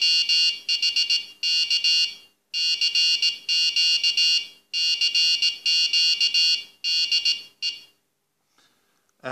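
A homemade touch-sensitive Morse paddle's buzzer sounds in bursts of rapid beeps, Morse-style dots and dashes in uneven groups with short pauses between, then a quiet gap at the end.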